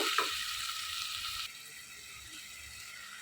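Spice paste with chili powder, turmeric and salt frying in a pot before beef goes in, a steady close sizzle with a brief clatter at the start, quieter after midway.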